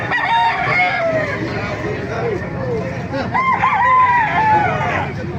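A rooster crows loudly and repeatedly, its wavering calls rising over a busy background of clucking hens and murmuring voices.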